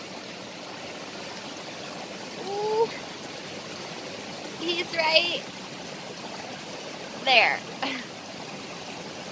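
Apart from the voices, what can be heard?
stream flowing near a waterfall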